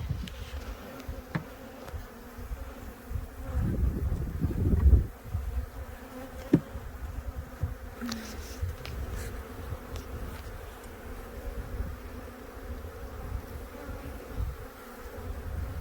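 Honeybees in a nuc hive being transferred on a farm, giving a continuous buzz with a louder swell midway and scattered clicks and handling bumps, with no talking.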